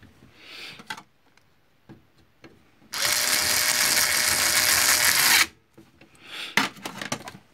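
A screw is driven in during repair of an HP LaserJet 1320 printer: a loud, close whirring burst of a few seconds, framed by scattered clicks and handling sounds.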